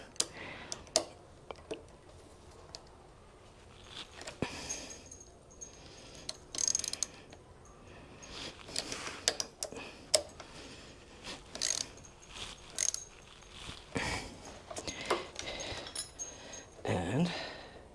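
Ratcheting and tightening a bolt on a 1969 Honda CD90Z motorcycle, with repeated close clicks and metallic ticks of the wrench in irregular bursts, fairly quiet and without speech.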